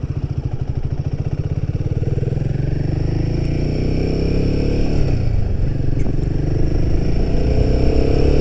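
A Royal Enfield Himalayan 450 motorcycle pulls away with a close, loud engine thump whose rapid pulses climb in pitch, dip briefly around a gear change, then carry on as a steady drone under wind noise.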